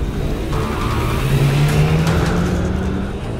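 A race car engine in Project CARS, a BMW racing at the Brands Hatch circuit, roars loud and close as it revs up through a rising pitch, with no voices over it.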